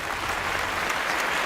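Steady looping fake crowd applause, dense and even with no breaks, sounding like a canned sample.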